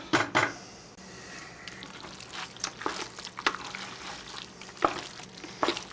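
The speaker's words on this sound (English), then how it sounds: "I'm going to add my tomato puree, which that's 1 can of tomato puree" A can of tomato puree poured into chili simmering in a pot, with a wet sizzle, glugging liquid and soft stirring scrapes, close and moderately loud, no talk.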